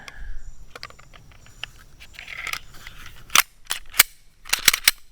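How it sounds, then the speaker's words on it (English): A Glock 20 Gen4 10mm pistol slide is put back together with a KKM barrel and spring: scattered small metallic clicks and scrapes, then several sharp, close snaps of parts seating, with no talking. "Let me throw the slide back together here with KKM barrel and spring."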